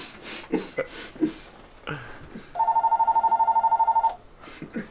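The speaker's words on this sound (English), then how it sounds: "there's a phone in this room" A telephone rings in a small room during a podcast, a rapid electronic trill lasting about a second and a half, loud and close, between bits of conversation.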